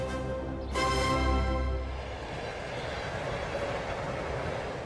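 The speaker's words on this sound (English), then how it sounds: "The trains were running." A train rumbles past with a steady low roar and a brief horn-like tonal burst near the start, the noise fading into a broad wash as the wagons roll on.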